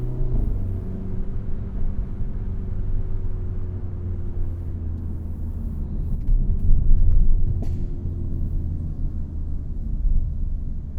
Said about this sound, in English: having your sunroof open so you can hear your cool exhaust in the back